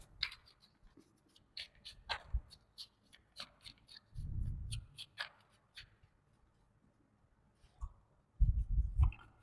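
Tarot cards shuffled and drawn on a table, a series of crisp close flicks and snaps, then two soft thuddy bursts of cards riffling, with no speech.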